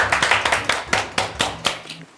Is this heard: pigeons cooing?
no